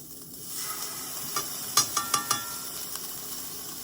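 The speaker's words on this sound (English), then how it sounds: "And now we're gonna add in the garlic." Minced garlic hits hot onions in a frying pan on a stove, giving a steady sizzling hiss with a few sharp crackling pops near the middle, fairly close and moderate in volume.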